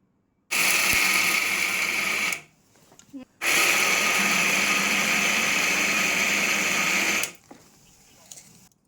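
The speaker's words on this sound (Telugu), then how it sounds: "ఈ పప్పు మొత్తం చల్లగా అయిపోయిన తర్వాత మిక్సీ అయితే పట్టుకోవాలి" A kitchen mixer grinder blends cooled, well-cooked dal for a bobbatlu filling. It gives a loud, close motor whir in two runs, a short burst and then a longer one of about four seconds, separated by a brief pause.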